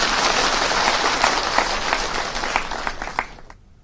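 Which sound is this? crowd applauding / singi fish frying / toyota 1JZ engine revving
crowd applauding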